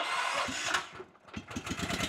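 A Swaraj Code 11HP compact tractor is started with the key and choke: a loud rough whir and crank, a brief dip, then the small engine catches into a rapid, rhythmic chugging idle close by.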